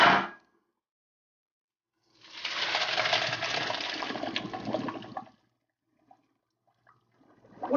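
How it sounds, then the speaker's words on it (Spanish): Water drained from a pot of boiled potatoes pours out in one steady rushing splash lasting about three seconds, close and fairly loud, framed by quiet pauses and small clinks. "procedemos a sacar todo el agua"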